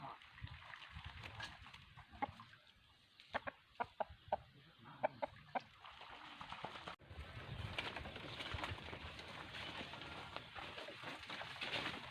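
Chickens bathing give a few soft, short clucks in a quiet outdoor spot, then a louder rustling wash of noise takes over.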